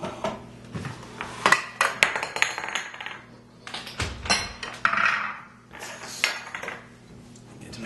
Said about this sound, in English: We're going to go ahead and take all of our dry ingredients and just mix it on in with the pumpkin stuff